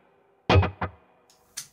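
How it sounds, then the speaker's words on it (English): An electric guitar run through two stacked delay effects plays a short burst of notes, followed by faint repeating echoes trailing off, with no talking. "So this is the sound of both delays."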